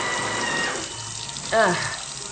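Tap water runs steadily into a bathroom sink as someone washes their face, a soft continuous wash with a brief splashy burst partway through, heard close up.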